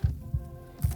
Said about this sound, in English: But you guys can hear the heartbeat.